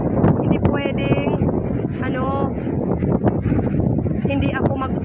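Strong coastal wind gusting against a microphone on a rough-sea day in Borongan City, with a blown umbrella, a steady roaring buffet under near, continuous talking.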